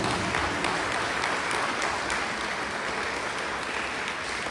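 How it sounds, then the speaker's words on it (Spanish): A church congregation breaks into loud, dense applause that holds steady throughout, with no speech over it. "Dale un fuerte aplauso a Papá Dios."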